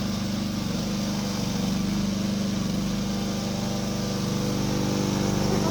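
A radio-controlled robotic lawn mower's engine drones steadily and loudly throughout, a constant low mechanical hum with no pauses.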